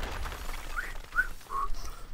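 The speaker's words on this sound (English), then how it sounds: "Oh, he whistled." A character in the video game Turmoil whistles a few short, rising tones in quick succession, moderately clear against a low background hum.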